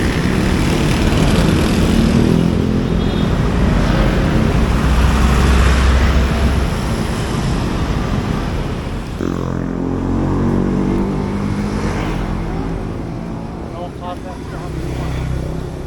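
Busy street traffic in Jakarta, with a steady wash of car and motorbike engines and road noise running continuously at close range, shifting in tone partway through as vehicles pass. Faint voices can be heard mixed in.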